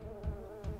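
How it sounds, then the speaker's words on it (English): Bees buzz in the video game Monkey Magic, a low steady drone at moderate level with two brief swells, alone with no talking. "I know what those bees do."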